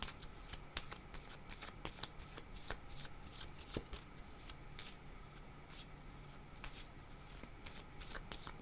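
Tarot cards being shuffled and drawn by hand. Quiet, close crisp riffles and slaps repeat in quick irregular bursts, with soft rustling between them and no talking.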